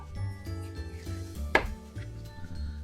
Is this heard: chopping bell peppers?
yes